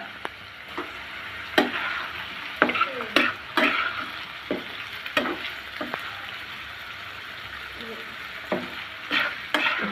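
Pumpkin pieces fry in a pan right after the lid comes off, a steady sizzle broken by repeated sharp clatters and scraping knocks as the vegetable is stirred.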